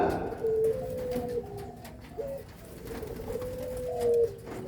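A spotted dove (tekukur) coos close by in a village setting, several soft, low rolling phrases in a repeating rhythm over a quiet outdoor background.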